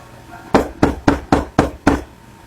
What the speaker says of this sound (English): However, the knocking continues.